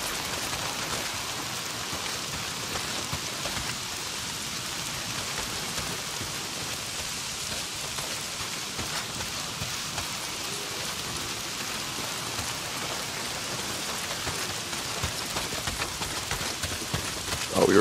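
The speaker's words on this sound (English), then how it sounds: "Well, not if it's pissing down rain." Heavy rain pours steadily in the Days Gone video game, a dense, even hiss of drops on surfaces that runs unbroken for the whole stretch, with no voices.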